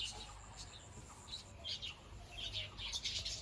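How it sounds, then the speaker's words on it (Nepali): Birds chirp outdoors at a resort in Lataguri: faint, scattered tweets and short calls come from some distance over a soft background hiss, with no clear talking. "के मजाले चराहरू कराएको"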